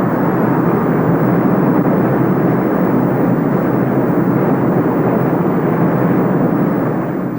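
United States Air Force KC-10 tanker jet passing with a loud, steady roaring rumble that fills the air evenly throughout, with no talk.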